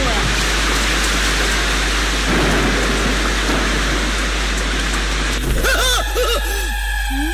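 Heavy rain in a film scene hiss steadily as a dense, continuous wash of falling water, loud throughout, with a low hum underneath and voices talking over it toward the end.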